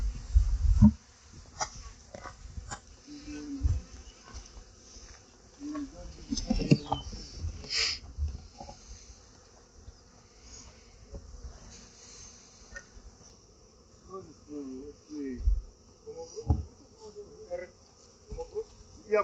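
Honey bees buzz around an open hive in fine weather, a thin continuous drone with individual bees passing near, mixed with handling knocks and brief voices of beekeepers talking nearby.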